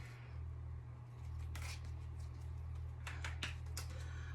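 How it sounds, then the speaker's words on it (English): Soft papery riffling comes in short bursts over a constant low hum, tarot cards being shuffled nearby in a quiet room. "So I'm going to shuffle my cards."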